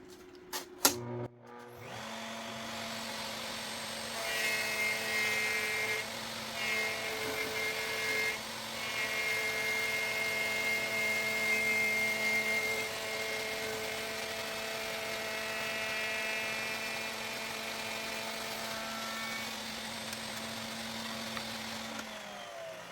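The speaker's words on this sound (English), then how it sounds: "I had the vacuum cleaner going" A vacuum cleaner runs steadily in a woodworking shop, a sustained whining motor drone with tonal harmonics that starts after a brief clatter and continues for the whole stretch at a fairly close, even level.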